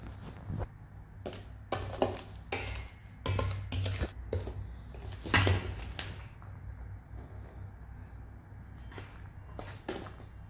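A ladle stirs fruit-cake batter in a bowl, making a series of soft, irregular scraping and knocking strokes close by, with quiet room tone between them.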